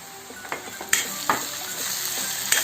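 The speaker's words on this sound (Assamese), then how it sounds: "অকণমান দেৰি লৰাই দিছোঁ।" Banana-stem stir-fry with khar, a little turmeric, half a spoon each of coriander and cumin, stirred in a pan: a steady sizzle broken by several sharp spoon scrapes, close and clear, with no voices.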